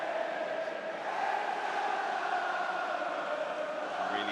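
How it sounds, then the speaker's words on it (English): Stadium crowd noise at a League Cup football match between Swansea City and Nottingham Forest, a steady, loud roar and cheering sustained throughout with no pauses. "Really hear that crowd now."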